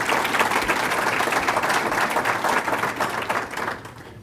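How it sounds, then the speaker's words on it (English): Audience applause for center investors at a housing event, a dense steady wash of many hands clapping throughout, tapering slightly near the end. "just a quick round of applause for our center investors."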